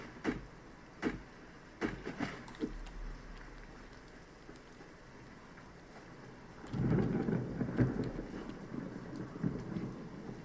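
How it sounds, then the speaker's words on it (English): Rain and thunder in the survival video game Subsistence: steady rainfall throughout with several sharp thunder cracks early on, then a loud rolling rumble swelling midway and lingering under the rain. "not too bad considering it's raining out"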